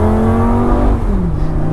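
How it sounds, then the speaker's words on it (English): A Lamborghini with an E-gear transmission revs hard, then the pitch drops sharply as the gearbox slams into the next gear, all loud and close with no voices. "This is the E-gear transmission, so it just slams into gears"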